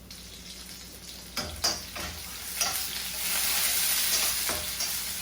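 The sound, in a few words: onions frying and being stirred in oil for okra bhaji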